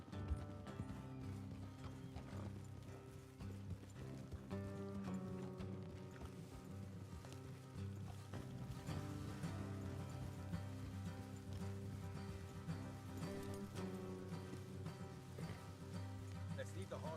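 Horse hooves clip-clop in the Red Dead Redemption 2 video game, a steady beat of hoofbeats heard under a continuous bed of game music.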